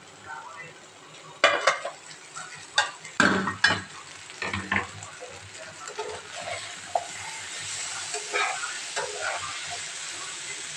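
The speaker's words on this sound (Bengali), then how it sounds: "ঢাকা চাপা দিয়ে দিয়েছিলাম তো ভাজা প্রায় হয়ে এসছে, দেখি ভাজা কি অবস্থায় আছে" Food frying in a small amount of oil in a pan with the lid lifted, a steady close sizzle with clinks and scrapes of a utensil stirring and pot sounds throughout.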